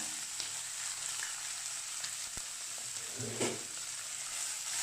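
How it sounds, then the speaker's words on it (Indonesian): Shredded beef fries in a thin layer of oil, a steady close sizzle and crackle running throughout with a few soft stirring scrapes and a brief louder flare near the end, no talk. "Kita goreng, kita balik-balik seperti ini aja."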